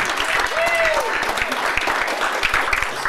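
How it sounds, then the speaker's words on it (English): Comedy club crowd at the Comedy Works clapping and cheering in a dense, steady wash, with a few whoops and voices rising over the applause throughout. "Give yourselves a round of applause for coming out and not staying home and watching TV"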